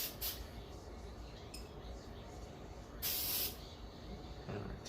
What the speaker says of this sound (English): we get our spray disinfectant